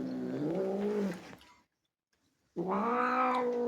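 A cat lets out two long, loud, close growling yowls, each a drawn-out moaning caterwaul, separated by about a second of near silence.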